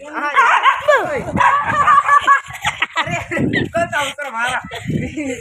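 A dog barks and yips repeatedly, close and fairly loud, with people talking over it throughout.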